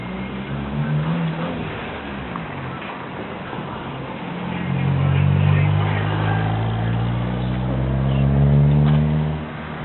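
A 2003 Toyota Echo four-door sedan with 126K miles and hail damage runs with a steady low engine drone that swells louder midway, faint ticking over it and nobody speaking.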